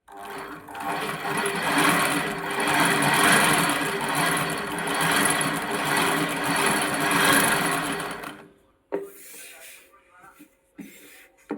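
A sewing machine runs steadily and loudly for about eight seconds while picot stitching the bottom edge of a saree fall, then stops, leaving quiet handling with a couple of brief knocks.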